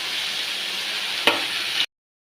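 Lotus root frying with homemade chili powder in a pan, a steady broadband sizzle running for nearly two seconds with a single sharp stir or clink partway through, then abrupt silence.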